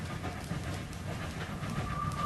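A train running in a radio drama, a steady continuous rumble with a faint rhythmic rattle of carriages and a thin high squeal creeping in near the end, filling the whole short stretch without voices.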